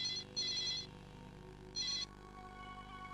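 A telephone rings for an incoming call, two bursts of electronic trilling separated by a pause, moderately loud over a low background hum, with no talking.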